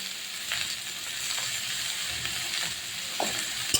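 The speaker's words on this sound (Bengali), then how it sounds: "নেড়ে চেড়ে একটু আমি ভাজা ভাজা করবো বেগুনটা" Eggplant pieces with salt and turmeric sizzle steadily in a frying pan for neem begun while being stirred, a constant close hiss broken by a few soft scraping strokes.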